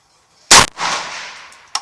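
A single sharp rifle shot is fired through an ATN X Sight II scope at a 50-yard target outdoors, loud and close, followed by a brief rolling echo and a faint later click.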